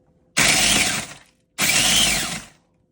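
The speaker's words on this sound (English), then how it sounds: "I used my food processor, and it should be nice and crummy" Cookies are ground into crumbs in a food processor in a home kitchen: two loud whirring bursts of the motor, each just under a second, separated by a short pause and ending in near silence.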